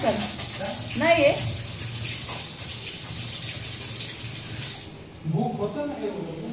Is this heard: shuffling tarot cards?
no